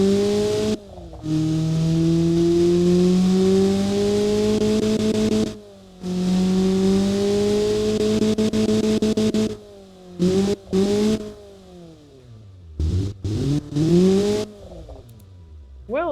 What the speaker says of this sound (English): this thing sounds nice for an inline 4 engine